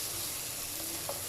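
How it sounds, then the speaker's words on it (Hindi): Potatoes and cauliflower fry over a medium flame with a brief, even sizzle close by, heard alone with no voices. "मीडियम फ्लेम है और ये देखें ये फ्राई हो रहा है।"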